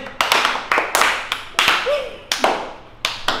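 Bursts of hand clapping from a small group, several separate rounds in quick succession, fairly close and loud, with brief gaps between them.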